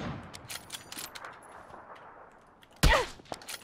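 Gunfire in PUBG: a burst of sharp distant shots crackles early, then a single loud, close crack rings out near the end, with faint ambient game noise between.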